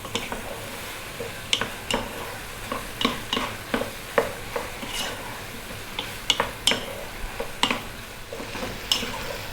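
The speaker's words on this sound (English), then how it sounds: "5 minutes stirring pretty much all of the time now." Flour is stirred in a pot to cook out a roux for classic beef stew, with a spoon scraping the bottom in repeated rhythmic strokes over a constant low sizzle.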